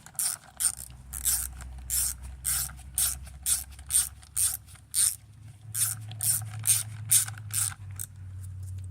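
Ratchet wrench snugging bolts on the ABS modulator of a 2013–2017 Honda Accord, giving repeated short bursts of clicking in a steady rhythm, close up with a low hum beneath and no talk.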